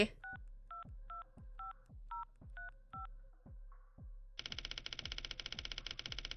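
Telephone keypad tones in a hotel room, seven quick, evenly spaced dual-tone beeps over a repeating low thump, followed by a denser buzzing ring-like tone.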